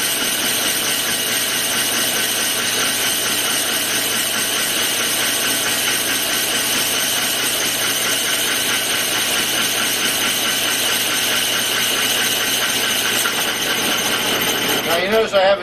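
A metal-cutting machine shaves across a metal face in a steady, loud, continuous grind with dense high-pitched ringing and a constant motor drone, running close for the whole stretch and ending in a brief burst of sharper scraping.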